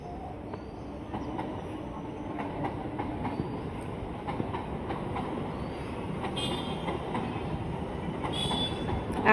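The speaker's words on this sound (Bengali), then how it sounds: "একটা ট্রেন চলে গেল, আর একটা ট্রেন আসছে উল্টো দিক থেকে" A metro train runs along a railway line on a mild afternoon, with a continuous rumble of wheels and carriages and faint squeals and clicks. The sound stays fairly steady and grows slightly louder toward the end.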